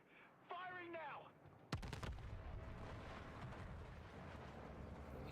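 A sudden heavy blast of weapon fire in the Battlefield 6 campaign comes after a brief electronic tone, then rolls into a long, loud, sustained rumble.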